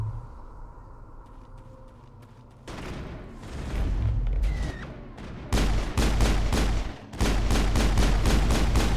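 Video game gunfire starts as sparse distant pops, then builds into loud bursts of rapid automatic fire and heavy booms, with brief pauses between volleys and no talk.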